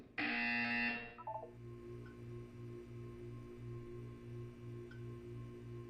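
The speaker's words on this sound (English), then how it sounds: "You will hear a buzzer." A loud, harsh electronic buzzer in the video game Portal 2 blares for about a second, then cuts off, leaving a faint, steady pulsing hum in the background.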